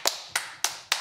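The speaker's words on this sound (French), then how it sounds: "Il n'y a que Zach qui m'a applaudi" Slow, evenly spaced claps from one person during a football quiz game, four crisp separate hand claps about a third of a second apart, close and alone with no voices.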